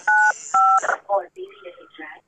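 Two sharp telephone keypad tones dialing 95, each a clear beep, followed by a voice speaking close by.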